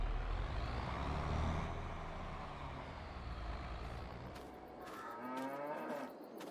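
Cattle lowing on a farm in Farming Simulator 22, several loud moos with harmonic, drawn-out calls, the clearest near the end, over steady ambient farm noise.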